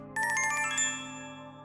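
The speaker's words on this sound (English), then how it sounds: "I barely register the quiet melody of a ringtone" A phone ringtone plays a quiet, bright melody in a convenience store: a quick run of chiming notes that rises and then fades into a low steady hum, heard alone.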